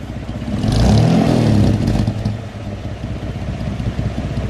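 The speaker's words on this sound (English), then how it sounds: "Let me hear the exhaust note." A 1954 Kaiser Darrin 161 engine revs up hard with a deep rumbling exhaust, peaks, then settles back to a throaty idle.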